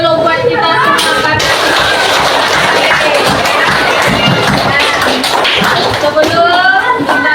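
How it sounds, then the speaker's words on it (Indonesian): A classroom of students applauds together, dense overlapping claps and taps with voices mixed in, loud and sustained throughout. "Itu tepuk tangan dulu buat kita semua."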